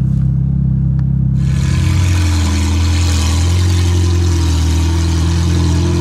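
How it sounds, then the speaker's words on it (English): A Ferrari 488 GTB with a VOS Performance exhaust, heard from outside the car: the engine idles and then swells into a loud, steady, resonant drone with a sudden rise in volume, close by, with no talking. "Take the 488 round"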